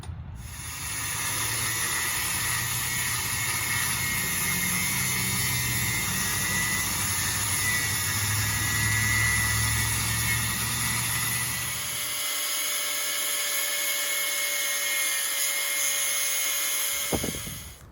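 A power cutting tool grinds at a steady, loud pitch while a broken GM G80 locking differential is cut apart in a workshop. The whine runs continuously for about twelve seconds, then drops to a thinner hiss with a brief sharp noise near the end.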